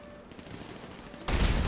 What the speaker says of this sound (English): Where the hell did I just get shot from?